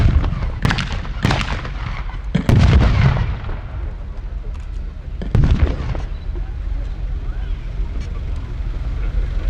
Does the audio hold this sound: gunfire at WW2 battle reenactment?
yes